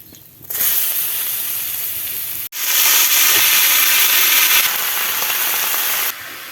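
Panch phoron and chopped onion hitting hot oil: a loud, steady sizzling hiss that flares after a brief pause as more goes in, then eases slightly before cutting off.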